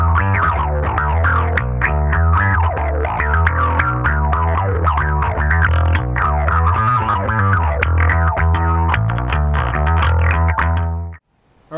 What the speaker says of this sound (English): First one I'm going to do is going to be an envelope filter.